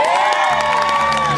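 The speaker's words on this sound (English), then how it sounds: "Let's have a cheer for the fact it hasn't rained" An audience at an outdoor summer concert cheers and whoops loudly, a dense wall of crowd voices with high shouts over it, all close and sustained.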